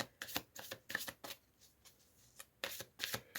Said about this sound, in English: let me draw a few oracle cards quickly before I continue